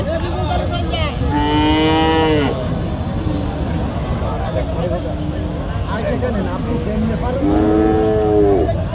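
Cattle at the Chowgacha cattle market give two long, loud, close moos, one early and one near the end, over a steady murmur of market crowd noise and voices.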